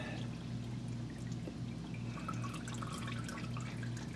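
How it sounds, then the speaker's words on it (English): Engine oil drains from a 2022 Nissan Pathfinder into a drain pan, a faint continuous pouring and trickling of liquid with small drips, steady throughout and unaccompanied by speech. "make sure you got your drain pan under there so you can catch the oil, because there's going to be some oil coming out"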